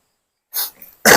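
Two short, harsh coughs from a person with a cough and flu, a moment apart, close to the microphone, after a brief silence.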